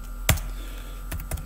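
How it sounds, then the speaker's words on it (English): Computer keyboard typing a password on a Linux machine: a few sharp, close key clicks, one strong press followed by a pause and then a quick pair of taps over steady background hum. "Just type in my password over here"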